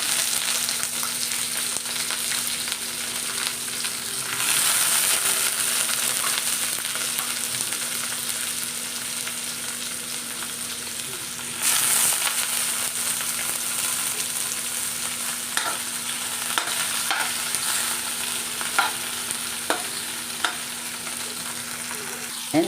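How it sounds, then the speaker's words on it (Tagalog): Carrot goes into onion sautéing in a pan, bringing a continuous close sizzle with surges as the pieces land and occasional scrapes and taps of stirring, no talking. "tapos nating magisa ng onion, ilalagay ko naman tong carrot"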